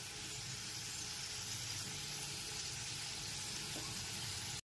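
Potato pieces fry in oil in a pan over a medium gas flame, a continuous quiet sizzle and bubbling crackle that holds steady until it cuts off abruptly.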